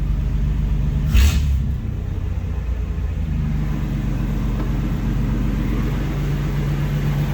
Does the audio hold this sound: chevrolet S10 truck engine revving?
yes